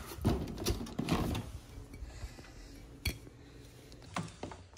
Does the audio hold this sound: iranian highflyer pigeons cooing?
no